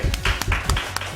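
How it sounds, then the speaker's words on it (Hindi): An audience at a televised singing talent contest claps for a contestant, a short burst of close, rhythmic hand claps. "बहुत सारी तालियां उमैर के लिए"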